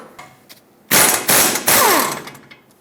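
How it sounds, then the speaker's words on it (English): A 21mm socket wrench loosening caliper mounting bolts on a Ford E-350, with a few quiet clicks, then loud rapid ratcheting in three short close bursts before fading to faint handling noises. "Use a 21mm socket, remove the 2 mounting bolts that hold the caliper and bracket assembly onto the knuckle."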